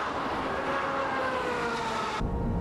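A Ferrari 355 F1 race car screams down the straightaway at Fuji Speedway, its engine a loud, sustained, rising high-revving wail that holds throughout before cutting off abruptly.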